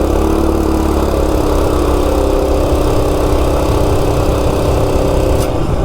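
A Coleman RSV go-kart with a 196cc engine roars steadily and loudly at high revs as it accelerates from 0 to 30, a continuous close buzzing drone with no pauses.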